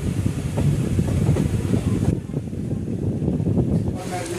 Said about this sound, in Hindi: अपने ट्रेन अब निकल चुकी है द्वारका के लिए